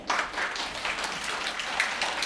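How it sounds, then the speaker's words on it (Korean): A small audience at a youth camp talk concert claps for a mentor, a brief burst of scattered hand claps that stays fairly even throughout. "좋은 답변 해주신 서현mentor님께 또 박수 부탁드려요."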